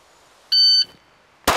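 A shot timer gives one loud electronic beep, steady and sustained for about a third of a second, during a speed shooting drill. After a short silence, a sharp, loud gunshot follows.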